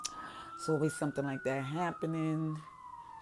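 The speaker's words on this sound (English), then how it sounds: "Pardon the sirens in the background" Emergency vehicle sirens wail steadily along a New York City street, a long gliding tone running throughout beneath a person talking close by.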